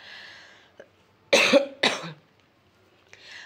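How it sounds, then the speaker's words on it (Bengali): Two short, sharp coughs close by, one right after the other, in an otherwise quiet room. "কাশিটা অনেকটাই কমেছে"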